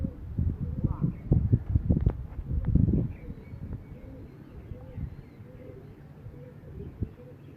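Breeder pigeons coo in low, soft repeated calls, with rustling and faint voices mixed in. The calls are strongest in the first few seconds and then thin to quieter murmuring.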